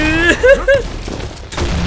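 Grenade blasts in the mobile shooter Combat Master Mobile boom loudly amid gunfire bursts, while a player shouts excitedly over the action.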